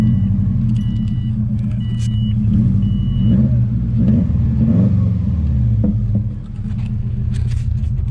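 A 2002 Subaru WRX bugeye, rescued from a junkyard, idles with a deep rumble, and its engine rises in a few short revs before settling back, loud and close, with no voices.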